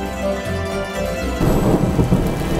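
Thunderstorm with rain, a loud, steady wash of rainfall with low rumbling underneath, getting denser and heavier partway through. No voices.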